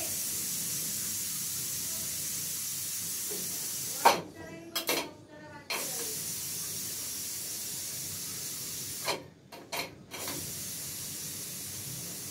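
Steam hisses as a pressure cooker lid is opened, a loud continuous rush of vapour close by, cut off twice by brief pauses with light metallic clinks of the lid.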